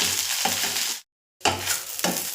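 Small balls of poha frying in hot oil and being turned in the pan. A close, steady sizzle runs with scraping stir strokes, breaks off into a brief silence midway, then resumes.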